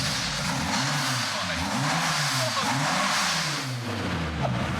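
A loud, raw-sounding Porsche engine with its exhaust removed revs up and down repeatedly in rising and falling sweeps, rough and unmuffled.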